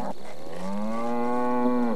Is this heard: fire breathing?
no